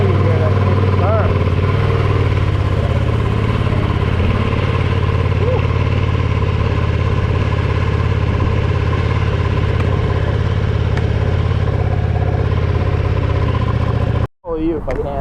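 Steady close idle of a 2020 Ducati Panigale V2 sport motorcycle, a loud continuous low rumble for most of the stretch before cutting off abruptly near the end.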